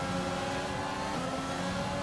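Renault-engined Formula 1 car in a racing video game, its engine droning in a steady, continuous tone that holds loud and even throughout, with no talk over it.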